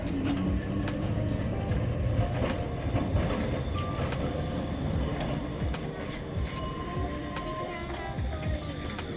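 A historic Sanok tram car rolls steadily along rails in Łódź with a constant rumble and scattered metallic clicks and squeals, close by, with no pauses throughout.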